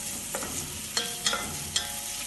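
Onion is stirred and sautéed in a pan with crushed ginger and garlic, a continuous sizzle broken by a few sharp scraping strokes of the spoon, close and with no voices.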